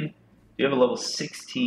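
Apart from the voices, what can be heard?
No distinct noise like a dog, phone or traffic.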